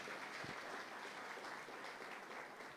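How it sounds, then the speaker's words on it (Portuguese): A Baptist church congregation applauds during a Sunday service, a continuous wash of many hands clapping heard faint and distant. "Aplauda ao Senhor, glória a Deus"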